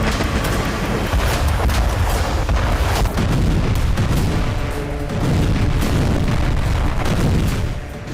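Rocket and missile strikes on military posts in news footage: loud, dense booms and blasts roll on with no break, thick with rumble and crackle, and trail off near the end.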